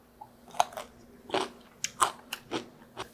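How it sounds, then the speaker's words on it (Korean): Crisp, crunchy bites and chewing of soy-pickled Cheongyang chili peppers up close, a handful of sharp crunches spread unevenly over a few seconds. "소리 들리죠? 아삭아삭한 소리."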